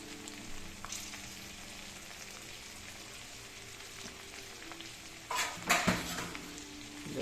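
Chopped onions frying in a pan for chilli fish curry, a steady low sizzle throughout, with a few louder stirring scrapes near the end, close and fairly soft, no talking.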